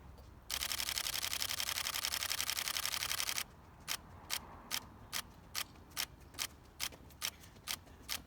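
Pentax K-3 Mark III camera shutter in continuous shooting, a dense rapid burst of clicks lasting about three seconds, followed by a slower run of about ten evenly spaced single clicks, close and alone.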